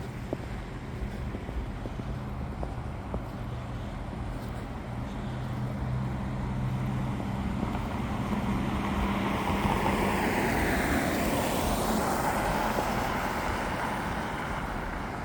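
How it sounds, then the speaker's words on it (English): Road traffic in snowy weather, with a vehicle approaching and swishing past close by over slushy pavement amid steady wind noise, its tyre hiss swelling and then fading. "When you're walking with your back to the traffic"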